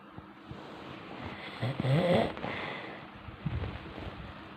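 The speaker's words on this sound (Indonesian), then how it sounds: "Yang ngorok kayak naik gunung," A person snores softly and close by, slow rasping breaths that swell and fade over a faint background hiss.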